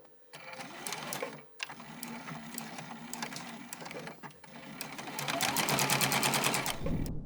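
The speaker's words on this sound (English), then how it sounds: "I'm going to sew them together with a 1/2 inch seam allowance" A domestic sewing machine stitches a purse seam in steady whirring bursts, pausing briefly twice and then running faster and louder toward the end, close by with no talk.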